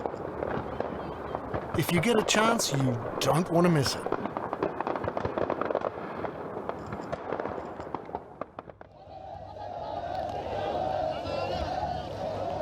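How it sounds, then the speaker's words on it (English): Summer fireworks at the Tateyama Fireworks Festival in Chiba, Japan, bursting over water, heard behind a steady talking voice and then as a denser, sustained crackle and rumble once the talk ends. "I came across the Tateyama Fireworks Festival, where you can enjoy the brilliant reflections of the fireworks on the water."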